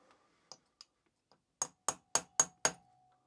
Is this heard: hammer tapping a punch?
yes